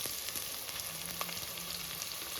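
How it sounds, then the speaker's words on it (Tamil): Onions and garlic sautéing with salt in a pan for South Indian cabbage kootu: a soft, even frying hiss with faint crackles and a light scrape or two, close but quiet, no talking. "நம்ம பூண்டு இதெல்லாம் நல்லா வதங்கி வந்துடுச்சு. வெங்காயம் ஆட் பண்ணிடலாம்."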